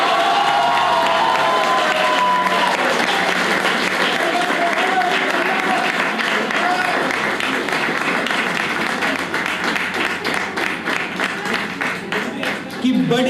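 Audience at a poetry open mic breaking into sustained applause with some cheering, loud and dense at first, then thinning into more distinct individual claps toward the end.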